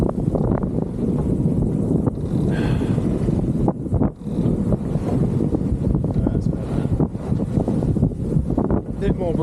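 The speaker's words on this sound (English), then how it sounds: "More breeze now we're coming out from the land." Strong breeze rushes and buffets the microphone while sailing a cruiser out from the land, a loud, continuous wind roar with brief lulls.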